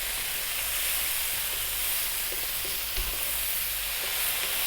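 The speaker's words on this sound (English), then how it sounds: "All you got to do now is keep this moving, because once your spice is in, if you don't stir it, they can burn" Spices sizzle and fry in a pan for a mushroom potato curry, a steady close hiss with faint scraping from stirring running throughout, without speech.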